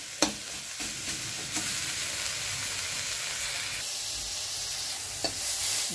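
Pumpkin leaves sizzle and crackle steadily in a hot pan, with a few sharp clinks of a utensil stirring now and then.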